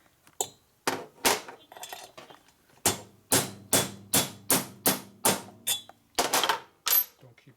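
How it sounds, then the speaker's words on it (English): A run of sharp metallic taps from a light hammer during assembly of a 1961 Harley-Davidson FL 74ci panhead engine head, about a dozen evenly paced strikes, close and clear with short pauses between groups. "You beat on with a hammer."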